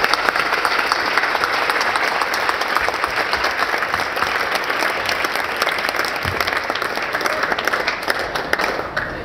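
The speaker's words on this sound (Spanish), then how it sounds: "Permítanme pedirles un fuerte aplauso de nuevo para nuestros ponentes" At a talk on drug policy in Mexico, the audience gives the speakers a loud, sustained round of applause, continuous dense clapping that holds steady before easing slightly at the end.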